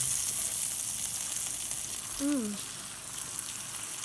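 Smelt fish frying in oil gives a steady, fairly loud hiss and crackle throughout, with a brief faint squeak partway through.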